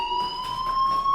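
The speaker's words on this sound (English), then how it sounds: "Hey, do you hear that fire alarm?" A fire alarm rings in the video game Life is Strange Remastered, a continuous, piercing electronic tone that holds steady and fairly loud throughout, with no voices over it.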